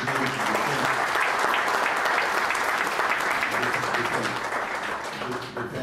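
An audience at a discussion on government control of temple administration gives Dr. Swami a loud, dense round of applause that holds steady for several seconds, with some voices mixed in, before easing off slightly.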